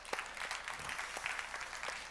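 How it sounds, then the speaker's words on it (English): Applause from a tech event audience, a steady faint patter of clapping that continues for a couple of seconds without talk. "Big round of applause for the awesome content that's been here from everyone"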